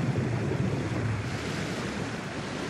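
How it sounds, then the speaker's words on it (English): Intense water flow rushing in a lake scene of Paper Mario: The Origami King, heard as a steady, loud wash of surf-like water noise with a windy hiss, continuous and unbroken with no talking. "I'm surprised the lake is surviving this intense water flow"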